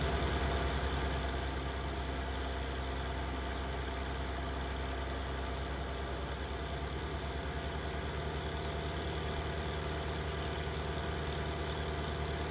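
In Farming Simulator 19, a tractor engine hums under load at a steady, unbroken low drone that stays loud and even throughout with no talking.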